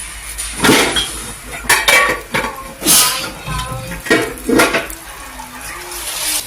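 Metal lid set onto a pan of cooking chocolate pancake batter, several close clinks and clatters of cookware with utensil knocks and faint running water around them.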